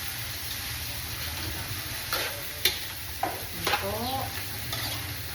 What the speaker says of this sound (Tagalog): Gigisan muna po natin sa bawang at sibuyas